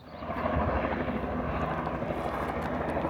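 A firefighting helicopter carrying a water bucket passes close overhead, its rotor thumps and engine roar loud and steady, near the Howard Prairie wildfire.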